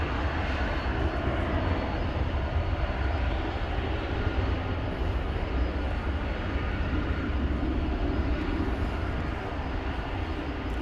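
An airplane at DFW Airport produces a loud, steady, broadband roar that holds evenly from start to finish, with no voices.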